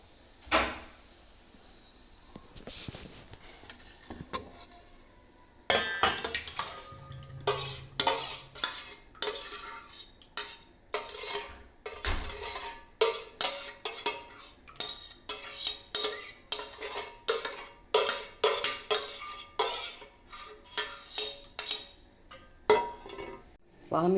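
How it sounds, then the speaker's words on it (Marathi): Sweet lemon pickle cooks in a heavy-bottomed steel pot, a spoon scraping and knocking against the metal in close, rhythmic strokes after a quiet start, with a soft bubbling sizzle underneath. "पहा मी जड बुडाच्या पातेल्यात हे लिंबाचं लोणचं शिजायला लावलं आहे"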